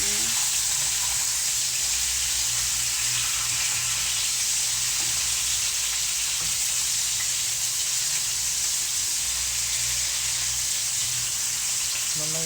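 Steak browning in a hot frying pan, a loud steady sizzle with a bright hiss that runs unbroken throughout, with faint talk now and then underneath.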